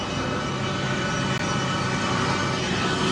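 A presidential jet plane taxiing slowly on an airfield about 200 yards off, its engines giving a steady, loud broadband roar and whine throughout with no talk over it.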